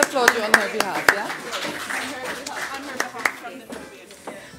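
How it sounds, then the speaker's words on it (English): Scattered audience claps sound at the 2021 Editors' Forum of Namibia journalism awards ceremony, a handful of sharp hand claps spread through the moment while a presenter keeps talking. "But we can still applaud you on her behalf"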